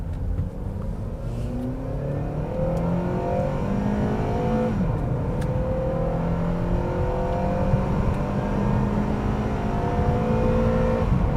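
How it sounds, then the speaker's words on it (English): An Acura TSX Sport Wagon with a Honda K-series engine in sport mode accelerating hard through VTEC, a loud, rising engine note climbing through the revs with a shift partway through, heard from inside the car and alone. "It just sounds like a K-series, and you can hear VTEC."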